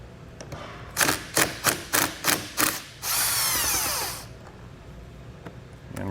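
A cordless power tool driving a nut on a 12 volt outlet install on a 2019 Jeep Wrangler, six short sharp bursts in a steady rhythm, then one longer continuous whir, close and loud with no talk.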